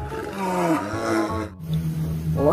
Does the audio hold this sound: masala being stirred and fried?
no